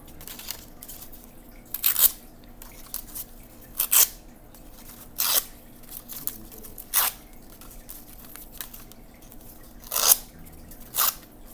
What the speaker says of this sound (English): I'm going to take my scissors and I'm going to strip the fingers